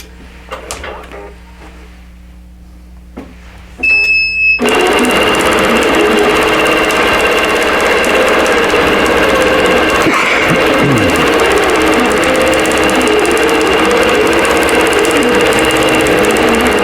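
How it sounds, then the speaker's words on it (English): An electric sewing machine stitches a quilt, starting after a few quiet handling clicks and then running loudly and continuously with a fast, even mechanical hum close by. "I'm going to sew that and continue"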